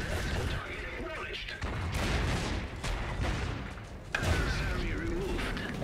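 Gunfire in the Iron Harvest video game during a Saxony campaign battle: dense, continuous volleys and booming bursts that surge and swell, with voices talking over the clamour.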